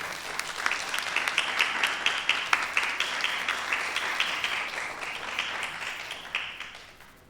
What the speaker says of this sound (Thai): ปรบมือให้กับคุณแม่กันนะคะ